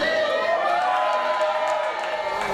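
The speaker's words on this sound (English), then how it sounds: "Crowd loving it." Wrestling crowd at a New Heights Wrestling Pride Championship five-way match, cheering steadily as the champion Kelly Klark celebrates; a dense, sustained wash of voices and whoops, loud and continuous throughout.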